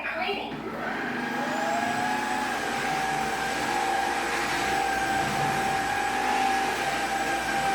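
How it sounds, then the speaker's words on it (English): An Airthereal VacTide V1 cordless wet dry vacuum running on hard floors, with a steady motor whine and a constant high tone, continuous and fairly close. "This vacuum is for hard floors such as laminate, tile, and sealed wood."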